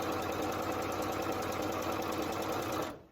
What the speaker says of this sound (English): I'm just going to sew all the way off.